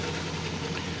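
A Midea automatic washing machine spins through its drying cycle, giving off a steady, fairly loud whirring rumble that holds even throughout.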